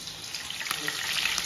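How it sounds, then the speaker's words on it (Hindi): Green chillies fry in a brand-new kadhai, giving off a steady, airy sizzling hiss with a few faint crackles, heard up close and alone. "और अब मैं इसमें फ्राई करूँगा हरी मिर्च"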